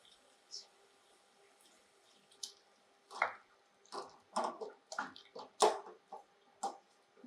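Cooked rice is handled in water while being blanched for kimbap, giving faint wet squishes and soft drips that grow busier and louder partway through, close by with no talking.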